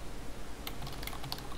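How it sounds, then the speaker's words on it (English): Quiet bursts of keystrokes on a computer keyboard during an online game session, a handful of light irregular clicks close by over low background hiss. "I'm just typing something right now."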